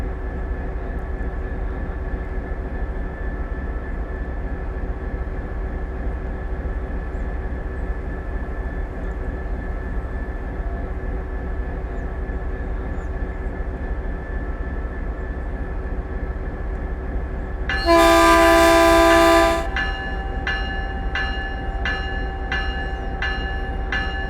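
Train from Train Sim World on the Peninsula Corridor, a steady low rumble of the running consist throughout, with a loud two-second horn-like tonal blast near the end followed by a repeating faint chime or ticking.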